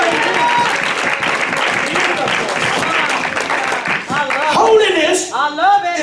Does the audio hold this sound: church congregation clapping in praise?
yes